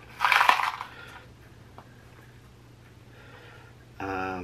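Crushed glass pours out of a Ziploc bag into a resin mold in a short, loud rattling burst, followed by faint scattered clinks and a brief second clatter at the end.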